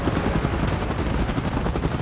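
A helicopter in the PUBG Mobile video game churns loudly and close, its rotor making a dense, rapid pulsing thump that runs continuously without pause.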